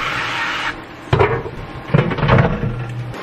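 A kitchen drawer is pulled open and slid shut, giving a brief rumble then sharp wooden knocks and clatter, close and alone, with a steady hum behind.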